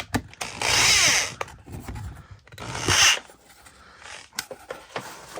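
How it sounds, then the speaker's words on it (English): Power screwdriver driving screws into a shoulder lamp prop build: two loud whirring bursts a couple of seconds apart, each under a second and a half, followed by scattered handling clicks and knocks up close. "And then we tighten them up. You can use a screwdriver."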